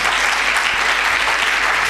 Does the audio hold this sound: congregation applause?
yes